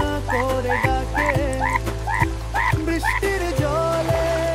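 A frog croaks about eight times in a loud, regular rhythm as a sound effect within a children's alphabet song, with a musical backing underneath.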